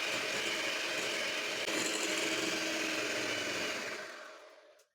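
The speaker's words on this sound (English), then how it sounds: "Using a hand mixer, I'm going to cream it until it's light and fluffy." A hand mixer whirs steadily as it creams margarine, sugar and vegetable oil for a marble cake, a loud, constant motor hum that winds down and stops at the end.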